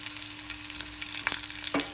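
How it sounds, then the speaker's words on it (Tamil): Crushed garlic cloves frying in oil for a Tamil dal, a soft continuous sizzle close by with a few louder spattering bursts near the end, no talking. "பூண்டு ஃப்ரை ஆகிடுச்சு"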